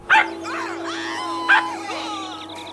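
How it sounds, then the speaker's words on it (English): A pug barks in the video game GTA 5, two short sharp yips standing out loud and close over a steady game hum with faint chatter in between. "jump up at these nice people with a funny little bark"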